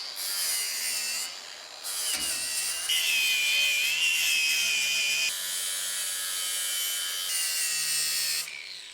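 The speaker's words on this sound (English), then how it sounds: "Let's grind a little bit of zinc away." Grinder taking zinc off the bent flanges of a galvanized steel window frame, a continuous close, high whine that rises and falls in pitch as it bites into the metal, with no speech.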